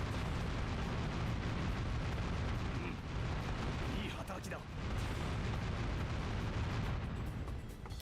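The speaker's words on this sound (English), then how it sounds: "Cannon, cannon. Use the cannon." Cannons booming in the battlefield game Dynasty Warriors 8, a dense, continuous roar of blasts and rumbling explosions that stays loud throughout, with heavy low-end thunder.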